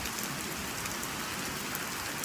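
Heavy rain falls steadily in a park, a dense, loud, continuous hiss and patter of drops on surfaces with no pauses.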